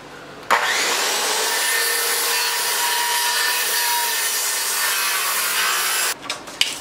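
A handsaw cuts through a piece of wood for a smoker build in one steady, close rasping stroke run lasting about five and a half seconds, followed by a few light knocks.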